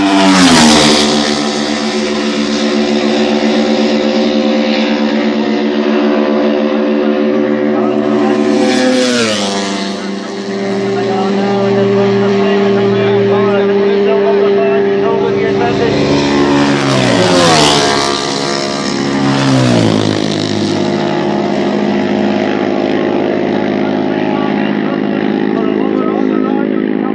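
Racing machines scream past during a road race, their engines loud and close and dropping in pitch as each one goes by, several passing in turn while a commentator talks over the roar.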